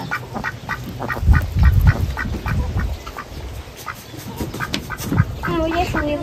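Geese, including a white one, honk and quack repeatedly at close range. The calls come in a steady run of bursts with a soft, busy background.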